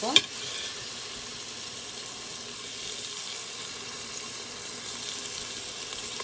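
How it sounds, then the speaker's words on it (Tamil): Green chillies and other ingredients sauté with salt in an Instant Pot while making shrimp biryani, giving a continuous even sizzle after a brief sharp knock at the start, with no talking. "இப்போ கொஞ்ச நேரம் வதங்கட்டும்."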